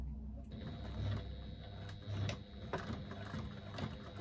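A sewing machine stitches at a construction stitch length of around 3, with a quiet, close mechanical hum and a few light clicks and knocks over about four seconds.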